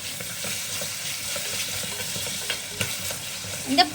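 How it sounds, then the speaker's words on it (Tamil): Ginger garlic paste sizzles and fries with onions in a pan, a continuous close crackle broken by a few stirring scrapes toward the end. "இப்போ ஆனியன் வந்து நல்லா வதங்கிடுச்சு. இஞ்சி பூண்டு பேஸ்ட் வந்து சேர்த்துக்கலாம்."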